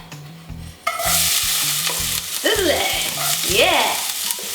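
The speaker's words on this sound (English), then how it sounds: "Saute the onions for about 5 minutes until they have softened and begin to brown." Onions and garlic sautéing in olive oil in a hot pan, a loud steady sizzle with a spatula scraping and stirring in a regular rhythm, while a voice briefly speaks over it.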